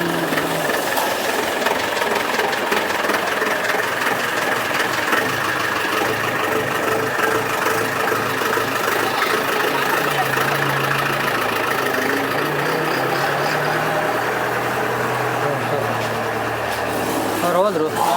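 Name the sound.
motorbike engine idling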